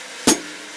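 A single short metallic hi-hat chick, played with the heel up during a brushed ballad on a drum kit, sounds once, close and crisp, followed by quiet.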